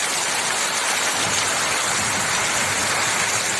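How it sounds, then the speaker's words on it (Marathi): Heavy rain pours down in a steady, dense hiss that holds even and loud throughout, with no voices. "मुसळधार पाऊस पडतोय"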